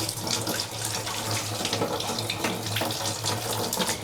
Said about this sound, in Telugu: లాస్ట్ ఒకసారి మంచినీళ్ళతో కడిగేస్తున్నాను అనమాట